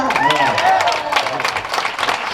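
An audience at a horror convention Q&A breaks into a short burst of applause and cheering, dense hand-clapping filling the room for a couple of seconds.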